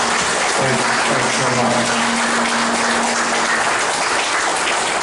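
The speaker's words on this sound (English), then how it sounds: "Let's give applause to the women who organized this event." A ceremony audience celebrating women in uniform applauds the event's organizers, a loud, continuous hiss of clapping with a brief spoken thanks and a faint hum beneath it.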